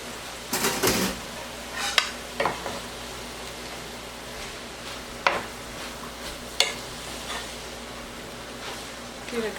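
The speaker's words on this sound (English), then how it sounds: "Give it a good stir." Pasta and leftovers stirred in a pan, soft scraping and clinking of the utensil against the pan at irregular intervals over a faint steady background hum.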